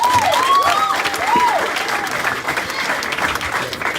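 An audience at a formal speaking event claps together in a sustained burst of applause, loud at first and then thinning slightly.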